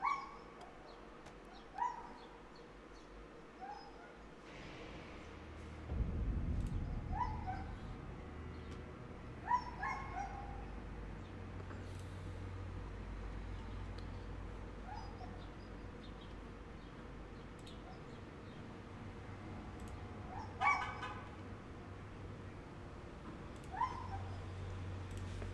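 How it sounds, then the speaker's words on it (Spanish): A dog whimpers and yips in Elden Ring: Shadow of the Erdtree, with short plaintive whines recurring every few seconds over a low, steady game ambience. "Ah, soy un perro, yo lloriqueando."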